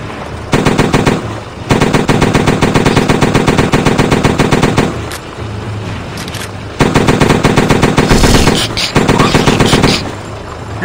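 Sustained automatic gunfire in the PC shooter game Battle for the Sun, rapid dense bursts that run for long stretches with brief pauses between volleys, loud and close throughout.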